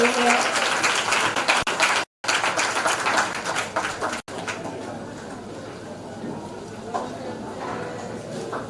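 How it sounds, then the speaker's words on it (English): Audience at a primary school leaving ceremony applauds school leaders, a dense, sustained clapping that runs loud for several seconds with brief dropouts, then fades into quieter crowd murmur and scattered claps. "Give them a round of applause while they make their way here."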